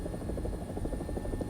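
Rotor thump and turbine whine of an AB 205 A-1, the Italian-built UH-1H helicopter, in a video game, a steady rhythmic beating that stays loud and close throughout with no talk.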